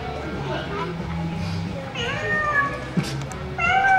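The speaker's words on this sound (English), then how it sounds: "It's a cat." A cat meows several times near the end over a busy, lively background where children's voices and playful chatter carry on throughout.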